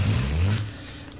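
A car engine in a radio drama revs with a low, throaty roar that swells and then eases off, close by, with no talking.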